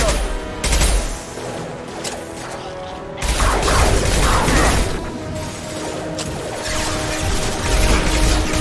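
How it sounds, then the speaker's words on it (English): A video game impact shot being fired, a sustained crashing barrage of explosive gunfire with heavy booms, loud and dense throughout the stretch. "Firing an impact shot!"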